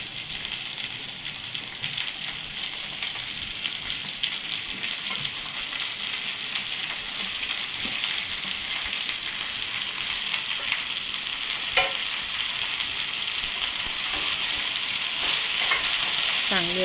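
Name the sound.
okra frying in hot spiced oil tempering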